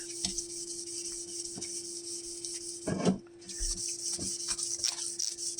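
Sanding a cigar box guitar fretboard with 1500 grit sandpaper gives close, repeated short rubbing strokes with a steady background hum and one louder scrape midway.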